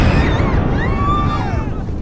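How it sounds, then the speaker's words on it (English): A bomb explosion effect rumbles as a loud, sustained low boom, heavily layered and continuous for about two seconds. "Bomb!"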